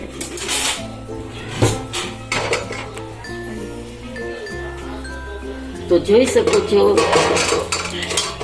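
A fork clinks and scrapes against a plate holding a crispy, deep-fried khasta kachori, with several bright metallic taps while a person talks over the sound.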